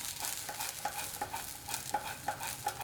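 Vegetable fried rice with spring onion leaves being stirred and tossed in a hot pan, a steady sizzle under a run of quick scraping strokes at a fairly regular rhythm, close and moderately loud with no talking.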